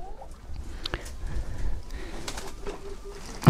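Pigeons bathing in a tub give soft cooing and faint splashing and rustling, with a low murmur of background sound running throughout.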